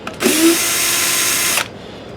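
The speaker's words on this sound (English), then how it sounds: "So first, the silver screws come out on the side." A power drill whirs steadily for over a second while backing silver screws out of the side panel of a JVC DLA-RS40 projector, starting with a brief rising pitch and stopping abruptly, close and loud with no talk.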